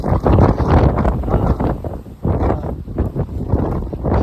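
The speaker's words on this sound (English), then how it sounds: "This wind's crazy." Strong wind buffeting the microphone beside an outdoor swimming pool, a loud, continuous roaring rumble with gusty surges and brief dips.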